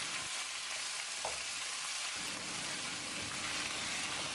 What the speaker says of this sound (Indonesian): Kemudian kita tumis-tumis lagi sampai nanti setengah mateng.